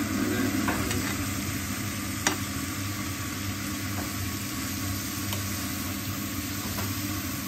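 Steak meat for tacos fries in a pan, producing a constant, dense sizzle and hiss with a few sharp spatters and taps, heard close and steady.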